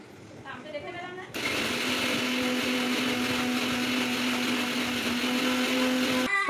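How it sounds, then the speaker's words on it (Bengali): An electric mixer grinder grinds spices at home with a loud, steady whirring motor hum. It starts abruptly after a short stretch of background voices and runs on evenly until it cuts off at the end. "আর মা মিক্সি করছে ওখানে মশলা মিক্সারে।"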